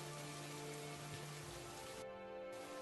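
Heavy rain pouring in a dense forest on a stormy night, a steady, even hiss of downpour with no pauses, fairly quiet and unbroken throughout.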